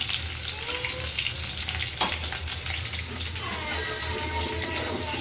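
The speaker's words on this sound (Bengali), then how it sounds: "এদিকে আমার মাছগুলো ভাজা এখনো হয় নাই" Fish frying in hot oil in a pan gives a constant loud sizzle with occasional stirring scrapes, close to the microphone and uninterrupted by speech.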